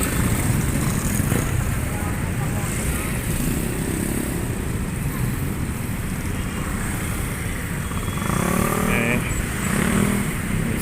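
Motorcycles idle and creep past in a long traffic jam in Tanza, Cavite, a steady dense engine drone with a louder nearby engine rising near the end, voices talking over it.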